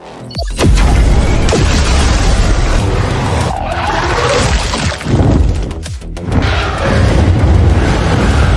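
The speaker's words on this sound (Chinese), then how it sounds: "先停，使用等离子炮" A plasma cannon fires amid a sci-fi battle against alien hive creatures, giving loud, dense booming blasts and rumbling explosions that roll on continuously with brief dips between impacts.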